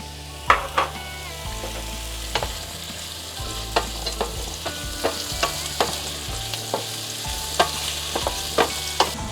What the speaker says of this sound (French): Je vais mettre un peu d'huile d'olive. Oups là. Là, je vais cuire. Je vais mettre tous les légumes.